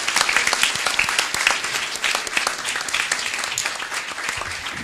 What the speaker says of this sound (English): I think we should have a round of applause for everybody who participated.